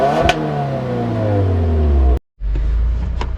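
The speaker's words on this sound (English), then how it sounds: "Let's see how this WRX performs." A 2025 Subaru WRX engine revving hard under acceleration, pitch climbing steadily before a brief cut at a gear change, then pulling again loud and close.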